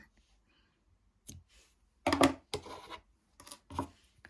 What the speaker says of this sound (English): And now cut your yarn.